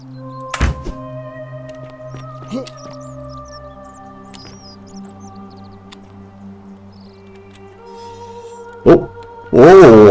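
Weapon fired at a statue in The Forgotten City game, a sharp heavy thunk near the start over a quiet tonal game backdrop, with a second thunk and a loud burst near the end.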